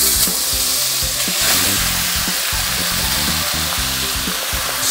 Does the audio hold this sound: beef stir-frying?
yes